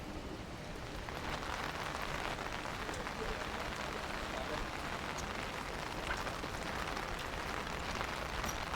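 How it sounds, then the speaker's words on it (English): Rain falling on an umbrella during a typhoon-day walk in Saitama-Shintoshin, Japan: a dense, steady patter and hiss of drops, close and continuous with no pauses. "listen to the rain"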